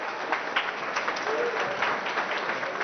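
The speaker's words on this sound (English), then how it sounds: "Let's give her a round of applause." Applause rises from the crowd at a Kentucky Thoroughbred broodmare auction after a mare sells for millions, a moderate patter of clapping in a large sale ring with a faint murmur of people underneath.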